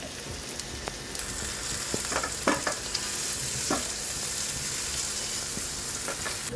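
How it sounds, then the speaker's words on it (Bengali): Small halved local potatoes fry with onions in a pan, a continuous crackling sizzle with occasional sharp ticks and stirring scrapes, close and steady throughout. "ছোট ছোট দেশি আলু মধ্যে দিয়ে কেটে আমরা পিপিয়াজের সাথে দিয়ে দিব এটা আগে আমরা কিছুক্ষণ এটার সাথে ভেজে নিব"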